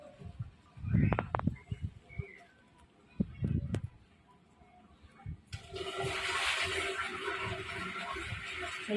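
Water rushes steadily into a toilet tank after some bumps and handling noises, a continuous hissing fill that runs to the end.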